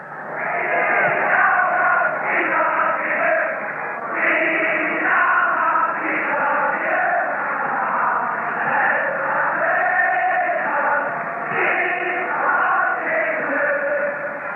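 A huge stadium crowd of about 126,000 football fans at a Celtic match roars and chants in steady waves, a dense, continuous wall of massed voices with a narrow, old-broadcast sound.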